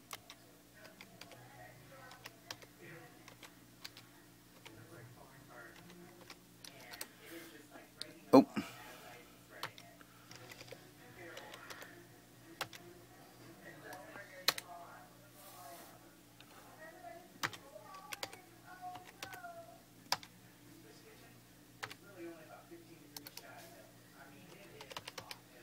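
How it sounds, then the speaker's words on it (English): Password being typed on a computer keyboard, a quiet stream of small key clicks running through the whole stretch, with one sharper tap near the middle and faint background hum. "So what I'm going to do is I'm going to type in the password."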